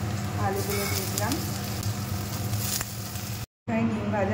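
Potatoes hit a hot pan with a steady broadband sizzle that runs throughout, masked in places by background music, with a brief dropout near the end.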